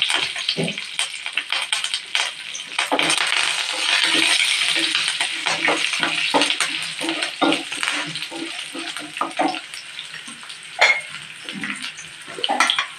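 Curry leaves and cumin seeds dropped into hot oil for tempering, giving a bright crackling sizzle with sharp spits and pops. It swells early, then thins into scattered crackles, close by.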